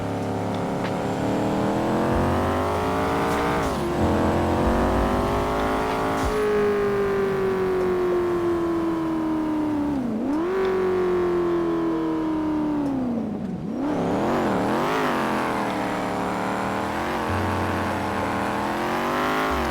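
A Chevrolet Camaro ZL1 engine revving continuously in GTA V, its pitch rising and falling through several gear changes, loud and close with a synthetic, game-like steadiness.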